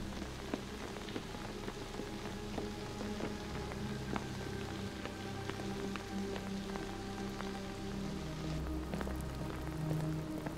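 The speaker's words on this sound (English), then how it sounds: "It was raining heavily, and the streets were very still." Heavy rain falls on a quiet street in China, a dense, steady patter and hiss with scattered louder drops hitting nearby surfaces, constant throughout and without any voices.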